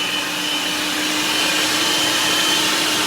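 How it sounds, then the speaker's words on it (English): An electric grinder whirs continuously and loudly, grinding garden seasoning at home, a steady high motor drone with no pauses or speech. "This is the grinder."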